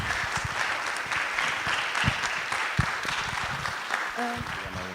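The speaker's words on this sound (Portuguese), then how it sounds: "Uma salva de palmas aqui." A room full of people applauds at the end of a session, steady continuous clapping throughout, with a voice briefly speaking near the end.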